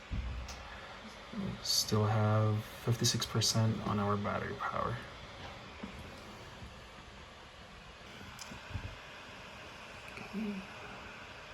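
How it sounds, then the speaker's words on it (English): A steady, loud whir of MacBook Pro 16-inch laptop cooling fans runs throughout, with a person speaking briefly near the start over the constant hiss. "the fans are really going off."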